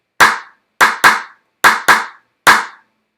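Drumstick shaft striking the edge of a trash can: six sharp, bright, high-pitched hits in a syncopated clave-like pattern, some in quick pairs, each ringing briefly before silence.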